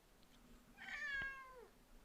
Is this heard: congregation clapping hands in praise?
no